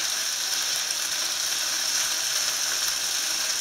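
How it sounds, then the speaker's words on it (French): A dish seasoned with ras el hanout couscous spices simmering in a pan, giving a steady, even sizzling hiss with no voices. "On laisse mijoter le tout environ 6 à 7 minutes"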